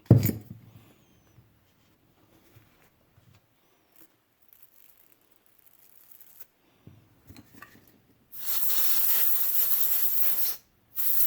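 After quiet handling noises, a near, loud spray of WD lubricant hisses into a Zebco 33 Gold Micro fishing reel in a sustained burst, stops briefly, then resumes.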